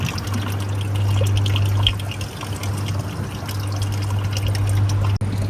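A small solar-powered pond pump sends water splashing and trickling steadily for several seconds, close and continuous, over a low hum, with no talk.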